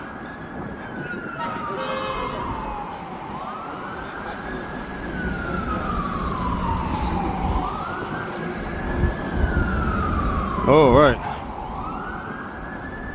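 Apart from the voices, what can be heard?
emergency vehicle sirens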